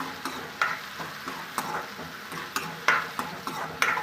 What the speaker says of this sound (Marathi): त्याला दोन तीन मिनिट आपण असंच परतून घेऊया टोमॅटो सॉफ्ट होईपर्यंत